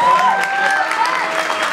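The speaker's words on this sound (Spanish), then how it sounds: "Aplausos." Applause from an audience at a rock awards ceremony, a dense steady clatter of clapping lasting under two seconds with a faint tonal squeal running through it.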